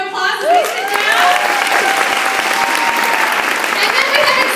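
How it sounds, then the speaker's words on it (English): A large audience applauds loudly and steadily for future executives at a career event, with cheers and voices mixed into the dense clapping that holds throughout. "So we are going to give our future executives a round of applause."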